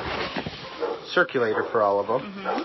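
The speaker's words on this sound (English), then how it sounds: "Sorry about my dog." A dog yips and whimpers in short bursts close by, mixed in with people talking indoors during a petition-signing conversation.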